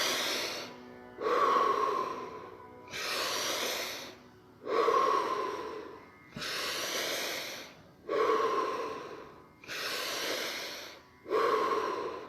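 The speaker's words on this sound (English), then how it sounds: "So breathing from the diaphragm. Remember, in through the mouth, out through the mouth" Deep diaphragmatic breaths drawn in and pushed out through the mouth during a guided breathwork and qigong session, about seven slow, loud, airy cycles in a steady rhythm with no talking.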